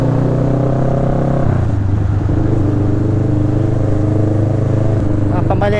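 Loud motorcycle engine on a trafficky street, a harsh steady rumble that shifts pitch partway through as it revs, with a voice talking over it.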